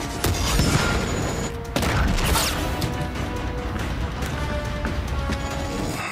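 In a scene from The Book of Boba Fett, stormtroopers open fire in a dense, loud barrage of blaster shots and crashes. It carries on without a break, with a heavy burst near the start.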